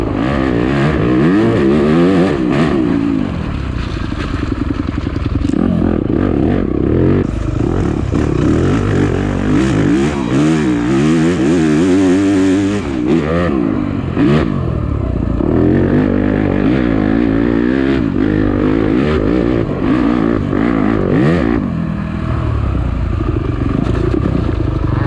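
A stock Yamaha YZ250F dirt bike revs hard and accelerates through a harescramble race, its engine loud and continuous with repeated rising and falling pitch sweeps as the rider pushes on, no talk over it.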